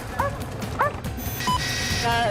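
A police dog bays and yelps in short loud barks, two near the start and more toward the end, against outdoor background noise during a police chase.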